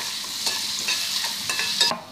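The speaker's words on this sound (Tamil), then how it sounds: "நல்லா வதக்கிக்கோங்க." Quail roast masala sautés in a pan under a steady sizzle, with a spatula scraping and stirring in repeated strokes close by.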